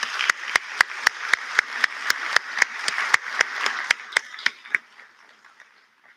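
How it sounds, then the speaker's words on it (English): A single pair of hands claps steadily and sharply, close by, roughly sixteen even strokes, in the applause for staff at the EverTech Academy 2022 high school graduation; light crowd murmur underneath fades out after the claps stop. "Please give them a round of applause."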